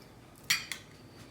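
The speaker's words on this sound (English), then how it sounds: "Just take you a spoon and get a lot of mixture and pack it in really good." A spoon scrapes and clinks against a bowl while packing a southwestern-style stuffing mixture into bell peppers, two quick close metallic scrapes in a quiet room.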